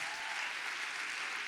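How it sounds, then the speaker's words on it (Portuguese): Congregation members at a FIREUP Summit church gathering give a short, steady round of applause, a dense even wash of clapping heard at moderate distance with no talk over it. "Uma salva de palmas para você."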